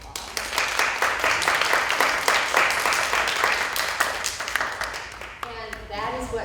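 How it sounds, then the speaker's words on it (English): A lecture audience gives a steady round of applause lasting several seconds, dense clapping that fades near the end as a voice comes in. "we can give her a round of applause"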